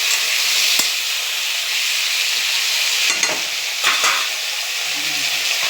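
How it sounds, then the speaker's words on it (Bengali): Potatoes and eggplant sizzle in a pan with salt added, a constant bright hiss broken by a few soft clinks and stirs. "লবণ দিয়ে দিলাম যাতে আলুটা বেগুনটা ভালো ভাজা হয়।"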